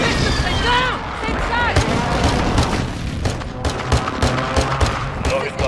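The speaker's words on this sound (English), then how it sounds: "Throw an airstrike over there." Airstrike explosions and bursts of gunfire roll through a Call of Duty Warzone 2.0 match on Ashika Island, loud, booming and irregular, with game voices and chatter running underneath.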